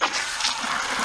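A garden hose fitted with a shutoff valve runs at full flow during a car wash, giving a steady close-up gushing hiss of water with no voices.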